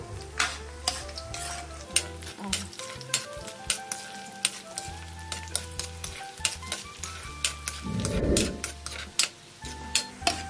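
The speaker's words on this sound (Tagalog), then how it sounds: "So, dahan-dahan natin iluto yan. Iluto ang ating bawang." Garlic frying slowly in oil for fried garlic, a steady close sizzle with light ticks and scrapes of stirring, plus a brief louder burst of sizzling near the end.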